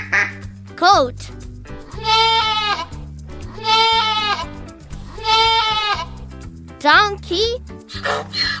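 A goat gives three long, wavering bleats, loud and close, over light background music, with a brief spoken word before and after the calls.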